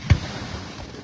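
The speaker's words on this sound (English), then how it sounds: "You like the fireworks, Diego?" Single firework burst at the Hocking Hills Bigfoot Festival, one sharp, deep boom at the start followed by a faint rumbling tail, moderately distant, with no talk.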